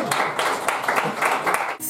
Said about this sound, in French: Les gens ils ont applaudi.